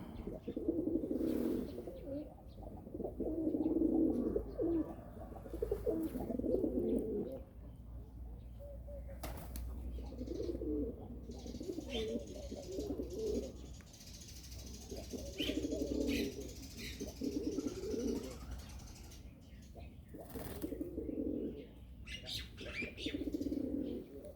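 Pigeons coo in repeated low, throaty bursts close by, with occasional wing flapping and flutters breaking in between the calls.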